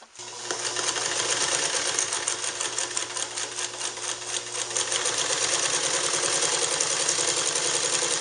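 A Japanese-made General sewing machine stitching leather, running continuously with a fast, even mechanical chatter and steady motor hum, close and loud, with no talking.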